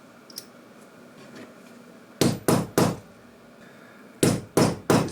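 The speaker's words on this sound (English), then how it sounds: "I like to use a metallic hammer for this job." A metal hammer strikes leather while a leather tote bag is being made, with two sets of three sharp, evenly spaced blows close to the microphone, separated by a short quiet pause.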